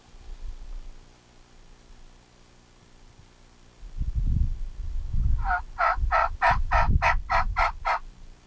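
Wild turkeys gobble during a spring bow hunt, a rapid series of about nine loud, rattling calls bursting out near the end, with low rustling and handling noise underneath and no talk.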